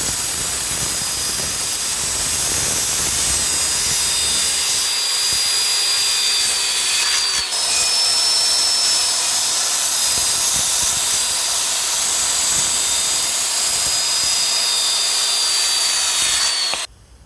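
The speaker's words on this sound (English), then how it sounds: "as soon as he hears that saw, he is out of here, man." A power saw cuts treated lumber for a 12x16 shed floor, a loud, sustained high-pitched whine with a brief hitch midway, running steadily before stopping abruptly at the end.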